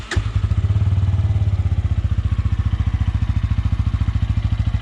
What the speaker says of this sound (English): This is the idle sound of this motorcycle